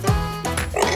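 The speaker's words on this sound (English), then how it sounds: "Pig!" A cartoon pig oinks once in a children's farm song with toy trucks, a short grunting snort set over a steady musical backing.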